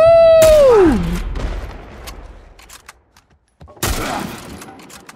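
Gunfire in The Last of Us video game: a burst of shots near the start, then scattered quieter cracks and a brief silence, followed by another loud volley.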